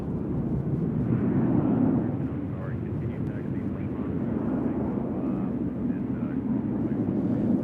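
Aircraft taking off from runway 2 left at Nashville International Airport: a continuous, deep jet roar, fairly distant and steady, with talk over it.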